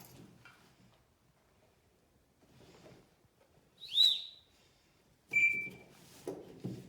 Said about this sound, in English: we're going to see what the low air alarm sounds like